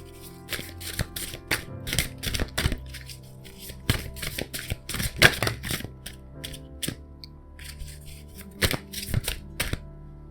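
Tarot cards are shuffled and drawn in a run of crisp riffles and flicks, each card snapping close and distinct against a faint steady background hum, with no talking.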